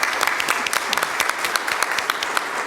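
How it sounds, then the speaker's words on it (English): Steady applause from a crowd at a judiciary alternative dispute resolution research symposium, dense clapping filling the whole moment with no voices over it. "I think we should all give Roger a big round of applause"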